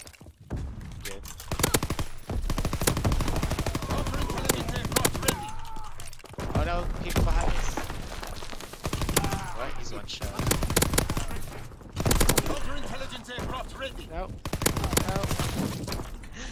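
Light machine gun fire in a first-person shooter video game, loud repeated bursts of rapid automatic shots with brief gaps between them, under the talk of players.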